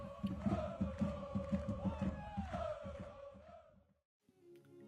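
A passionate football crowd at an SK Austria Salzburg third-division youth match chants and roars in rhythmic, pulsing bursts, dense and sustained, then briefly drops away before rising again.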